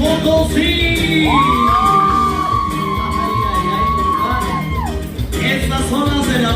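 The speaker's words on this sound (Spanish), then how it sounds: "Grito de San Luis Potosí." Loud wedding crowd in San Luis Potosí letting out Mexican gritos, a long rising-and-falling held yell soaring over cheering and whooping, with a band or rhythmic backing throughout.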